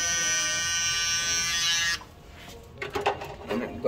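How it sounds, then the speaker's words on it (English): An electric shaver trims a beard in a barbershop, giving a loud, steady buzz for about two seconds before it cuts off. Brief speech and handling noises follow. "I'm gonna go in here in my shavers."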